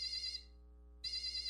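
A small demonstration circuit gives off an electronic buzzer tone, a steady high-pitched beep that sounds, cuts out for about half a second, then returns loud and close with no talking.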